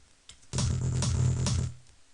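A psytrance kick and bass mix produced in Cubase plays loud and dense for about a second, with a brief click just before it and a quick fade after, no voices.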